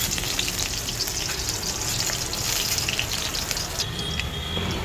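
Garlic sizzling in a hot pan, a loud, close, continuous crackle with some stirring and no talking.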